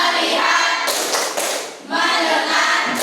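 A class performs the tepuk fokus clapping chant, with bursts of many hands clapping together and a group of voices chanting in rhythm; the clapping briefly thins before resuming loudly.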